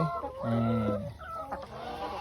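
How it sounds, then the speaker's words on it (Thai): Backyard laying hens on a Thai home garden farm cluck and let out a drawn-out, crow-like call, close by with no talk over it. "นี่เลย เจ้า ไก่ไข่ทั้งหลาย"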